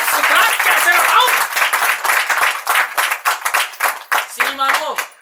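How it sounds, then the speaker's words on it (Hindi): A congregation at a church service claps in a loose, uneven burst that thins into scattered claps, with a preacher's voice speaking over and between them. "ताली बजाओ यार।"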